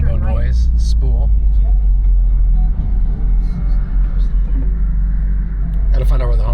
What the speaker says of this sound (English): Turbo noise, spool.